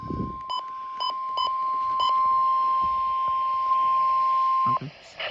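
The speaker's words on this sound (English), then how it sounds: "Okay, we got the EAS." A Midland weather radio in New Jersey sounds Emergency Alert System tones for a flash flood warning: several short burst codes, then a long steady loud 1 kHz tone held for about four seconds, with brief speech at the edges.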